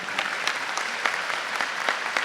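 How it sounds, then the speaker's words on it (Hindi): Audience applause at a spiritual blessings and good-wishes gathering, a steady dense patter of many hands clapping, continuous and fairly loud throughout the short stretch. "जोर से ताली बजाओ"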